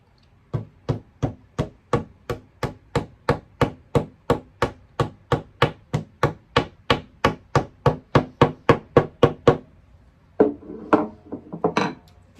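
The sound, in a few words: hammer tapping wall anchor into drywall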